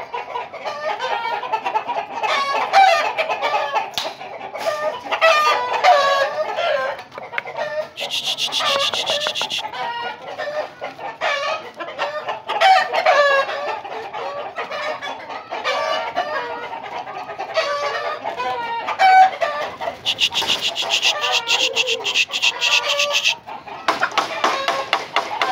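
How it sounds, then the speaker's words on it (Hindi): Young roosters and chickens crow and cluck together in a lively flock, overlapping calls filling the scene with a few louder crowing bursts standing out; a person talks intermittently underneath. "और देखें माशाल्लाह पट्ठों ने कितनी रौनक बनाई है परिंदों ने।"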